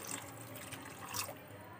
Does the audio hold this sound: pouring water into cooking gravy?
yes